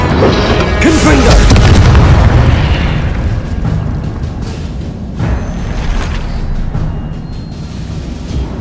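The Confringo fire spell in Hogwarts Legacy explodes with a heavy, loud boom at the start, then a long rumbling decay as combat noise continues underneath, with a brief voice cry.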